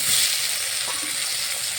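Chopped tomatoes hit onions fried until reddish-brown in a pan for egg curry, setting off a loud, close, crackling sizzle that stays steady and dense throughout.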